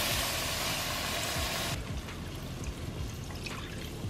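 Beef broth poured into a clumped flour roux for Swedish meatballs, a steady close liquid pour lasting under two seconds before giving way to quieter kitchen sounds.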